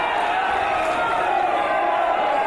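A wrestling crowd roars in steady anticipation before a grudge match main event, a dense sustained wall of cheering and shouting with no breaks.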